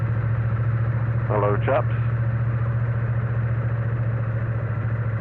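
Triumph Bonneville T100 motorcycle idling close by, a steady low engine drone running evenly throughout, with a short spoken greeting briefly over it.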